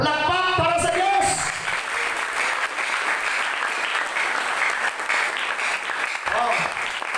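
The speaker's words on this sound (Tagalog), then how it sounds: "Palakpak para sa Diyos." Congregation clapping for God at a Filipino church sermon, sustained loud applause that follows a brief voice at the start, with another short vocal sound near the end.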